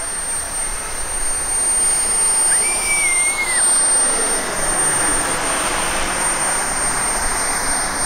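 A turbine-powered Natrix model jet with airbrushed paint flies overhead, giving a steady broadband jet roar with a faint whine that rises and falls as it passes, moderately loud throughout with no talking.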